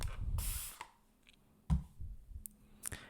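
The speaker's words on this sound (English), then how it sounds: "So we can let's actually spray the canvas." Short bursts of aerosol spray hiss onto a painting canvas near the mic, separated by soft clicks and faint handling noises, with quiet gaps between.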